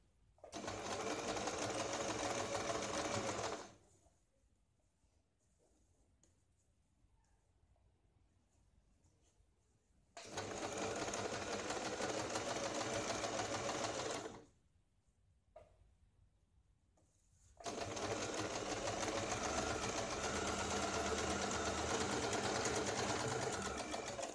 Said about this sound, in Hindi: फिर ऊपर यहाँ पे हम सिलाई लगाते हैं